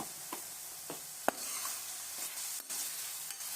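Whole cumin seeds sizzling in a pan for chicken jalfrezi, a faint steady hiss punctuated by small crackles and a few light utensil clicks.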